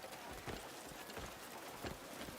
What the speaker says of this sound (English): Looks like he's going to ride the horse